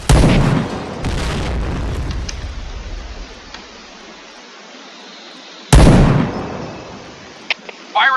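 A grenade goes off in a video game, two loud booming blasts each followed by a decaying rumble, with faint clicks and small pops in between.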